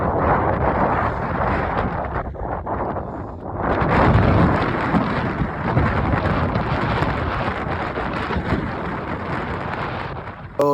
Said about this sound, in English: It's been raining for probably the last 5 hours.